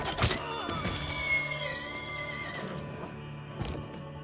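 Horses neighing in the strategy game Civilization VI, a loud close whinny followed by fainter drawn-out neighs and a short snort near the end, with no voices.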